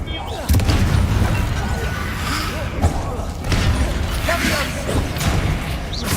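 Spell impacts and explosions in the video game Hogwarts Legacy, a dense run of booming thumps and bursts over a constant rumbling battle bed, with a few sharper hits standing out near the start and middle.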